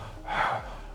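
A voice imitates heavy, raspy breathing like someone winded after running a race, one drawn-out breathy gasp swelling in the middle of a short, close, fairly quiet moment in a reportedly haunted home.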